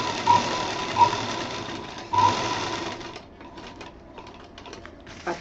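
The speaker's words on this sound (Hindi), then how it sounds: "अब ये नीचे का हिस्सा सिल देंगे।" A sewing machine stitches the lower part of a fabric three-pocket hanger, a steady fast mechanical whirr in two runs with a short pause, then it slows and stops into faint handling clicks.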